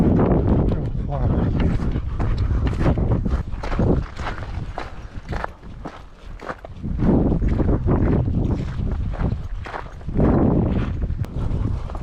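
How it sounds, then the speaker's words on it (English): Strong wind buffets the microphone in loud, roaring gusts on an outdoor hiking trail, with a brief lull mid-way and footsteps crunching underneath. "Super windy."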